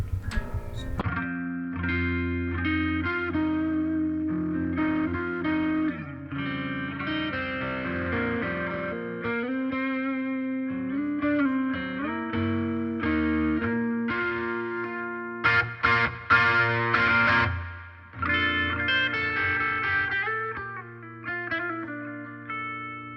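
Electric guitar played clean through an effects pedal, ringing chords and single notes with a shimmering chorus-like wash, loud and continuous for over twenty seconds with brief choppy strums near the end, no talking.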